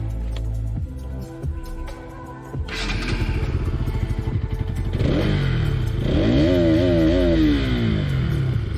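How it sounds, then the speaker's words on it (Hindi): A BS6 Bajaj Pulsar NS200 motorcycle, its engine idling with a low throb before the exhaust note rises in a series of loud, close revs that climb and fall repeatedly, with no talking. "एक बार इसका आप लोगों को एग्जॉस्ट नोट भी सुना देता हूँ मैं।"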